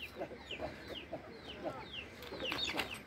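Fighter chickens kept by a village breeder clucking and chirping nearby, repeated short calls overlapping through the whole stretch, with faint background voices.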